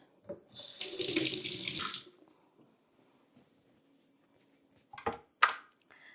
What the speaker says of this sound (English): Give my hands a little washity wash.